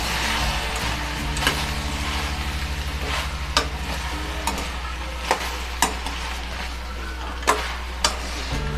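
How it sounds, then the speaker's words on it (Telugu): A spoon stirs a pot of ash gourd curry just after turmeric goes in, scraping and clinking against the vessel at irregular intervals over a steady sizzling hum, close by with no talking. "ఒక్కసారి మళ్ళీ కలుపుకుందాం పసుపు వేసి"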